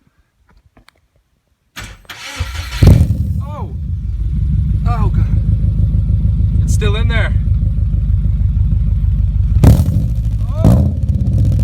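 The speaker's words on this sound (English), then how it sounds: "Let's start up. See how it sounds for the first time." After a quiet moment a car engine with a Tsudo full header-back exhaust cranks and catches. It then settles into a loud, throaty idle broken by several sharp revs, while people talk and react close by.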